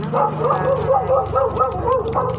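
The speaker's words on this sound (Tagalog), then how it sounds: "Kahol ng mga aso." Several dogs bark and yip in quick, overlapping bursts, fairly close and loud, with a continuous low hum underneath.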